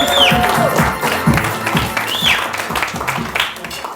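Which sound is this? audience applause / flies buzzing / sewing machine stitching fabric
audience applause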